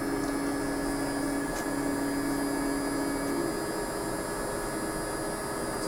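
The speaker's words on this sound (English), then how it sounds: "So now the stage just moves back and forth, and the cartridge holder moves around, and it does its initial calibration." An inkjet printer runs its startup calibration, the stage and cartridge holder moving back and forth with a steady whirring hum and faint tonal whine, continuous and close throughout.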